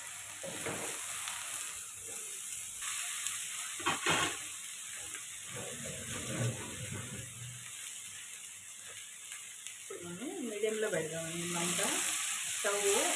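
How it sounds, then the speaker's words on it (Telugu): Ingredients for gongura chutney frying in hot oil in a pan, a steady close sizzle with scraping stirs throughout and a faint voice toward the end. "ఈ మాత్రం ఫ్రై అయితే చాలు"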